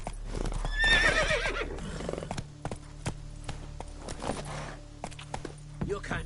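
A horse in The Witcher 3 gives a sharp whinny, followed by steady clip-clopping hooves and occasional creaks, all fairly close against a low ambient hum.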